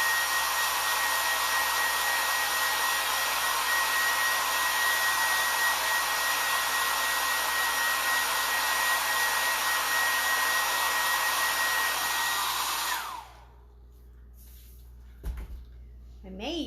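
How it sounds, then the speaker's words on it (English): Hair dryer blowing steadily and loudly on a camper decoration for about thirteen seconds, then switching off and winding down, followed by a few soft handling knocks. "I'm gonna have to dry this camper up"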